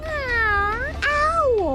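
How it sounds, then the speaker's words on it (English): A cat meows twice in a row, each call a drawn-out, wavering cry rising and falling in pitch, close and fairly loud, with no talk over it. "Cat?"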